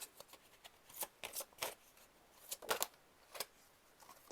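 Mystic Healing reading cards being shuffled by hand, a run of crisp riffling bursts and soft card slaps in an irregular rhythm, close and fairly quiet with no talk.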